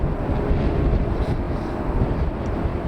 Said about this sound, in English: on its way out, looks like we've got a Finnair